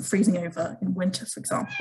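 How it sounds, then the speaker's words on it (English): A house cat meows several times close to the microphone while a man keeps lecturing over it about climate, the cries overlapping and interrupting his speech. "Sorry, that was my cat."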